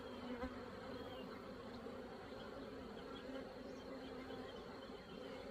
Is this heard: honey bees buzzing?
yes